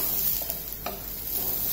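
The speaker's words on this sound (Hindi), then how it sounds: "ये देखिए, हम इनको भी सब्जियों को अच्छे से थोड़ी देर भूनेंगे।" Mixed vegetables sautéing in oil in a pressure cooker while being stirred for vegetable dalia: a steady close sizzle with a few brief scraping stir strokes and no talk.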